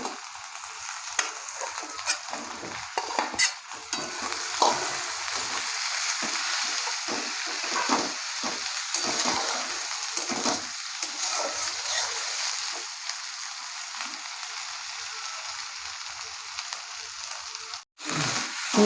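Chopped tomato frying with onion and garlic in hot oil while cooking goat meat curry, giving a steady, close sizzle with frequent stirring and spatter.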